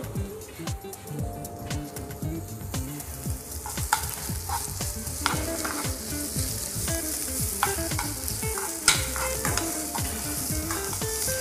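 Zucchini and other vegetables stir-fry in a pan for soba with oyster sauce, giving a continuous sizzle with scraping and stirring clatter, fairly close and steady throughout.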